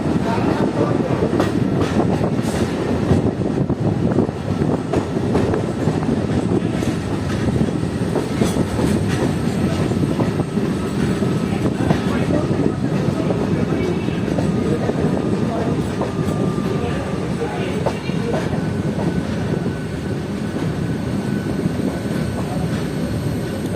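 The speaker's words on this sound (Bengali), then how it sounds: "এটা হচ্ছে এসি লোকাল" An AC local passenger train runs on the Amghata–Krishnanagar line, a loud continuous rumble with rattling carriages and rail clatter that holds steady throughout.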